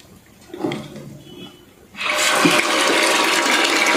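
Water from a tank drains through an opened drain plug during a floater switch installation: a brief gurgle, then a sudden steady rushing gush that continues loud and close.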